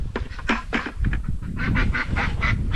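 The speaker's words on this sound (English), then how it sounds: "There's a duck stealing Zena's food." A duck eating a dog's food lets out a rapid run of nasal quacks and honks, loud and close, coming in irregular bursts with no voices over them.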